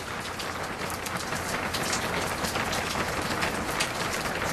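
Steady rain falls during a thunderstorm near a mountain, a dense, even hiss of drops hitting surfaces that stays moderately loud and unbroken throughout, with no thunder and no voices.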